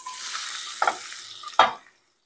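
Onions frying toward golden brown in a pan, a soft brief sizzle with two distinct scraping stirs before falling silent.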